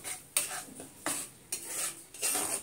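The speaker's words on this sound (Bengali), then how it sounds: "এখন মশলাগুলো ভালো করে কষিয়ে নিব" Spices with salt being sautéed in a pan while a utensil scrapes and stirs through them in several distinct strokes, close and fairly quiet, with a light sizzle underneath.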